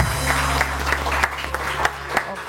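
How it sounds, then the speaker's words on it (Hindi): Audience applause for guests on a live Pakistani morning TV show, steady mid-level clapping from a studio crowd with a low background hum throughout. "बहुत सारी तालियां इन लोगों के लिए"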